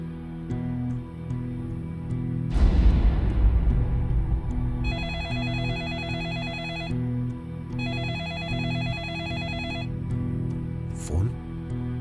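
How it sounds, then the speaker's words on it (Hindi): A telephone rings in two long electronic bursts of rapid trilling tones after a loud dramatic crash, over tense background music with no talk. "फोन"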